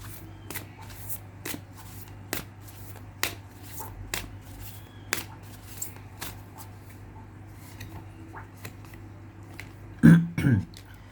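A deck of advice cards is shuffled in a quiet room, giving a series of sharp, separated riffles and taps spread over several seconds, with a brief cough or throat-clearing near the end.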